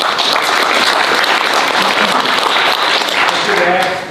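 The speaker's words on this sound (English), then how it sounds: "Please hold your applause until the end." Audience at a property owners' association board of directors candidate forum breaks into loud, dense applause that rolls on without pause and starts to fade only in the final moment.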